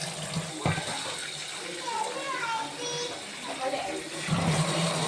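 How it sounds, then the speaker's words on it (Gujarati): Tap water runs and splashes over rice being washed for idli, a continuous gushing stream close by, with voices and children's chatter audible in the background. "તો હું આ પાણી લઈને ધોઈ નાખીશ."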